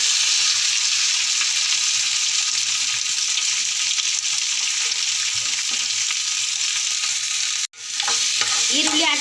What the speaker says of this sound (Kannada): ಈರುಳ್ಳಿ ಹಾಕಿದ ನಂತರ ಇದನ್ನು ಈ ಥರ ಫ್ರೈ ಮಾಡ್ಕೊತಾ ಇದ್ದೀನಿ.